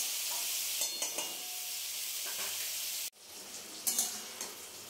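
Three pieces of fish fry in oil in a pan, a steady close hiss and sizzle with a few stirring clicks, briefly dropping before the sizzle resumes with light knocks.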